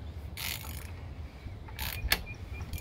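A Jeep 4.0 inline-six from a 2001 Cherokee XJ turned over slowly by hand, giving a few soft mechanical clicks and ratcheting bursts with a sharp tick, close and fairly quiet, no talking.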